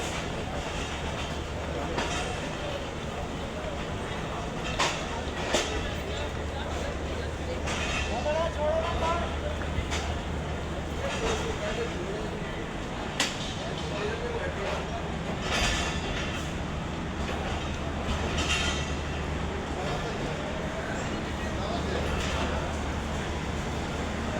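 Old-coach 13 Up Awam Express pulling out of platform 4 at Rawalpindi railway station, a steady low rumble with faint rhythmic wheel clacks and occasional clunks, while someone talks over it.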